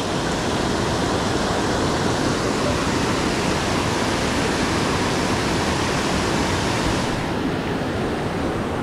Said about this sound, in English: Hanging out right on the edge of this ridiculous waterfall.